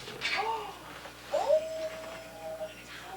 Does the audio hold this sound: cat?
yes